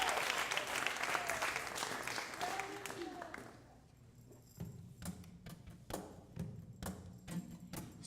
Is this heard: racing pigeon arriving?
no